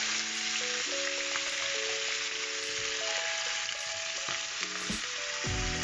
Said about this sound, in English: So I'm just gonna keep on panning this up until our onions are ready in here.